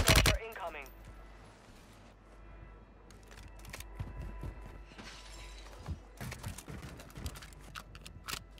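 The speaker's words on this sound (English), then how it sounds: "Glass broke." Glass shattering in the shooter Warzone 2, a sharp, bright crash right at the start, followed by quieter scattered impacts and clattering bursts over a low background hum.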